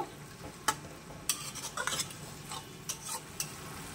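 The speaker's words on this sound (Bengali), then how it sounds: "গ্যাসের ফ্লেমটা বাড়িয়ে দেব, একটু নাড়াচাড়া করে নেব।" Split peas and chickpea lentils stirred in a pan over a gas flame give scattered scrapes and clinks of a spoon against metal over a faint, quiet sizzle, with no voices.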